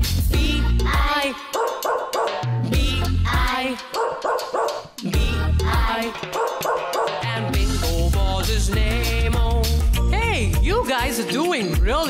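Cartoonish dog barks and yips pop out repeatedly within a children's nursery rhyme song about a farmer's dog, loud and close, layered over bouncy music and singing.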